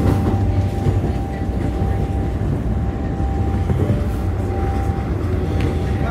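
An M9 subway train runs on rails with a steady rumbling roar and a faint whining tone, heard close from onboard.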